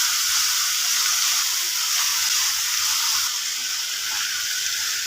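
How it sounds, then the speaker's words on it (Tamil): Capsicum and brinjal stir-fry in a pan over a medium flame, giving a steady, loud, continuous sizzle with soft stirring scrapes underneath and no talking. "தீ மீடியம் ஃப்ளேமில் வச்சுட்டு கைவிடாமல் கிளறுங்க."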